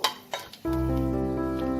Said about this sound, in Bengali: ফোড়নটা থেকে যতক্ষণ না ভাজা ভাজা গন্ধ বেরোচ্ছে ততক্ষণ আমি এটাকে তেলে হালকা নাড়াচাড়া করে নেব